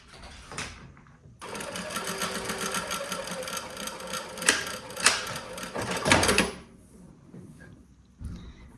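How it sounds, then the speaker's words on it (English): A sewing machine runs steadily for about five seconds, stitching the strips of a quilted beach tote, with brief handling sounds before and after the run. "And then I sew from this point to this."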